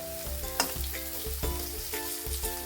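Kohlrabi pieces fry in oil in a covered pan, a loud steady sizzle up close with scattered clicks and scrapes as pieces are turned over, and no speech.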